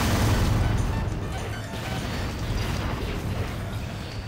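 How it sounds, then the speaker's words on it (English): Mega missiles exploding in the video game Descent: Maximum, a continuous loud rumbling blast with deep low-end roar that swells at the start and stays dense throughout. "I'm gonna go ahead and use my mega missiles here."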